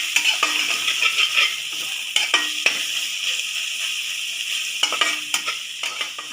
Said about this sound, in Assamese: ইয়াতে মই পাঁচফোৰণ দিছোঁ, লগতে মই আদা নহৰুৰ পেষ্টটো দি দিছোঁ। এতিয়া ভালকৈ ভাজি ল'ব লাগিব।